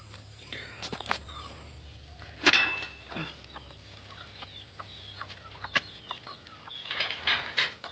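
Scattered clucks and short squawks from native country chickens amid rustling and faint background chatter, with a louder burst near the middle and a busier patch at the end.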